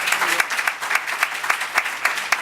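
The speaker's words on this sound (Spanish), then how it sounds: "Y ahora, un aplauso." A seminar audience at a business taxation event claps briskly in a room, with individual claps standing out rhythmically within the brief, moderately loud applause.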